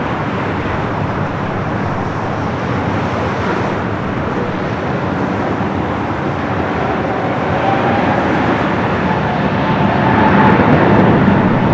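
A Japan Airlines airliner arriving from Osaka taxis at LAX, its engines giving a loud, steady jet roar that swells slightly toward the end, mixed with broad airport background noise.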